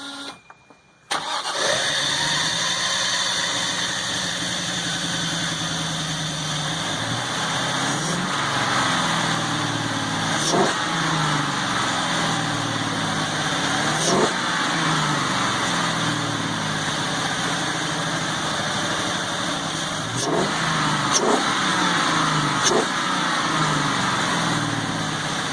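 A car with a newly installed exhaust and O2 sensor bungs fires up after a brief silence, then runs steadily and loudly close by, with several sharp revs blipping above the idle throughout.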